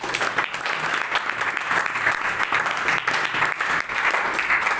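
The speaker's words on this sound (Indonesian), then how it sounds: "Kita tepuk tangan dulu." Sustained applause from an audience at a formal appointment ceremony for a student senate chair, a dense, steady wash of clapping at even loudness throughout.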